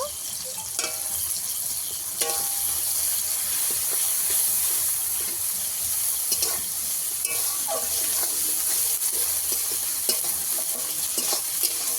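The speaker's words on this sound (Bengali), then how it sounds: "ভেজে নিয়েছি এই যে টমেটোটা গলে গেছে রাখা আদা দিয়ে দেব" Chopped tomato and ginger fry in a pan with a continuous, close hiss of oil. Scattered clicks and scrapes of stirring run through it for the whole stretch.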